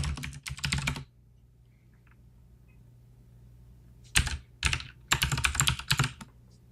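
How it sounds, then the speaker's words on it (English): Bursts of typing clatter on a clunky computer keyboard, a short flurry of keystrokes, a pause of near silence, then several more close, uneven bursts. "It's a clunky keyboard. It's not fun to type on."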